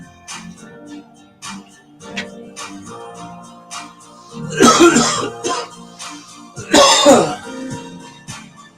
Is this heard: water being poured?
no